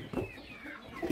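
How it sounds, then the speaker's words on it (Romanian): Hens and an Isabel rooster cluck inside a chicken coop, with a few faint, soft clucks and throaty calls spaced apart over a quiet background. "Aici sunt doar găinile și cocoșul de Isabel."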